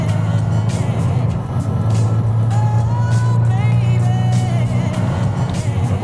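A car with a freshly cleaned catalytic converter accelerates hard on the way to a highway, its engine a loud, sustained low drone with rising tones heard from inside the cabin, over steady road noise.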